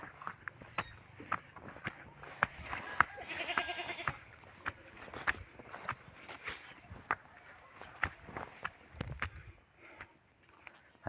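Pet goats kept at a small hut on an overcast day bleat intermittently at close range, mixed with shuffling footsteps and rustling in the pen, with some faint voices in the background.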